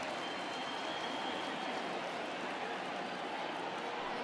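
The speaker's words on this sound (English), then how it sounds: "he receives a nice ovation from this home crowd" A home crowd at a baseball game applauds a departing pitcher, a steady, dense wash of clapping and cheering that fills the whole stretch from a distance.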